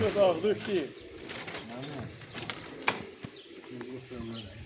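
Racing pigeons at a loft in Nakhchivan coo in low, rolling phrases during a race flight, the clearest calls at the start, while people talk and move about nearby.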